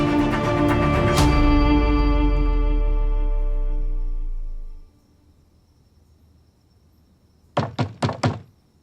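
Knocking on a door in a dramatic Turkish series scene: after a long swelling, fading musical chord, four sharp, close knocks land in quick succession near the end.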